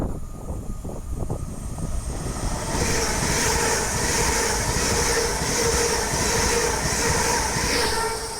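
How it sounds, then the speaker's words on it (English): An Avanti West Coast Class 807 train on the West Coast Main Line at Acton Bridge passes close by, running from Liverpool Lime Street to London Euston: a loud, steady roar that builds within the first few seconds and holds, with faint wheel rumble. "The next train to be coming through will be a Class 807 for Avanti West Coast, running from Liverpool Lime Street to London Euston."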